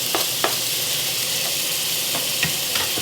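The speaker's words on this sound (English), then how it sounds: "we're going to add 3 garlic cloves that we've already diced up." Diced garlic cloves sizzle steadily in melted butter in a skillet for a lemon butter chicken, a continuous close frying hiss broken by a few sharp pops.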